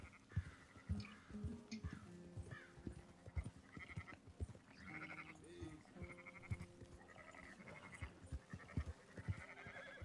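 Sheep in the video game Red Dead Redemption II bleat over and over, several animals overlapping, amid busy, cluttered background noise and rustling.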